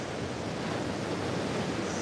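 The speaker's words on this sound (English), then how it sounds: "But the waves are absolutely gorgeous." Ocean waves roll onto a beach on an overcast morning, a steady broad wash of surf noise with light wind rumble and no voices.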